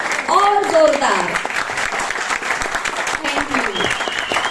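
Loud, dense applause from a public music performance audience washes steadily throughout, with faint voices and a few whistles mixed in.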